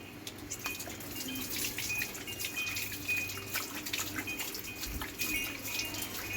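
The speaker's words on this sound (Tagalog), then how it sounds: "daan-daan lang po ang buhos sa ulo para hindi siya mahilam" Water poured gently over a dog's head during a bath, a faint continuous trickle and splash with small drips, quiet and close throughout.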